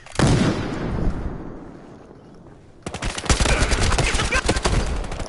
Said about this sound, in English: I just threw a grenade over there